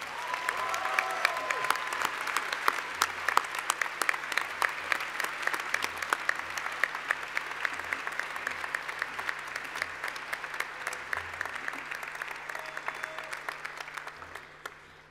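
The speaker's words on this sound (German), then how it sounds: "und jetzt den Applaus" Audience applause at the MCI Management Center Innsbruck graduation ceremony, a long, even wash of many hands clapping in a large hall, holding steady before tapering off at the end.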